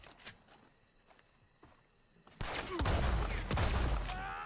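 Gunfire breaks out in Red Dead Redemption 2: a few isolated shots crack faintly at first, then a loud, dense volley of overlapping gunshots erupts close by and keeps going to the end.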